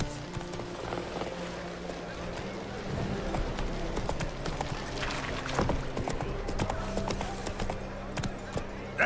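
Roach, the horse in The Witcher 3, gallops with steady rhythmic hoofbeats clopping along at close range, mixed with background game sounds and a faint snort.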